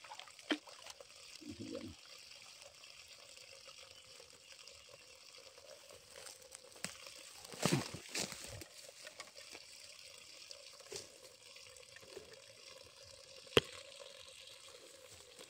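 Water drains slowly out of a farm irrigation hose that supplies a piggery beside rice paddies, a faint low trickle and dribble under sparse background noise, with a short spoken word and a few brief knocks.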